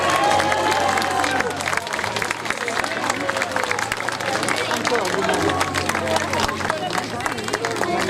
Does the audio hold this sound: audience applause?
yes